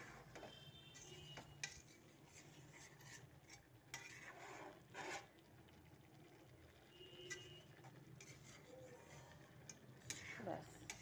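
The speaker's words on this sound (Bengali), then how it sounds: "ঘি দিয়ে একটু মিক্স করে দেবো এখানে" A Gobindobhog rice and cauliflower dish is stirred with ghee in a pan, giving faint scraping and occasional clinks of a utensil against the cookware, quiet and intermittent, with a faint hiss and murmur in the background.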